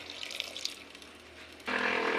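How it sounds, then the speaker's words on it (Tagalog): Water pours from a tap into a cooking pot of fish paksiw with vinegar, onion, ginger and chili, starting suddenly as a steady broadband rush after softer clinks and handling noises. "Lagyan din po ako ng tubig para hindi sobrang asim."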